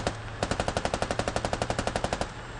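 Machine gun fire in the video game Squad: a steady burst of about twenty evenly spaced, loud, sharp shots that runs for roughly two seconds over a faint background hum.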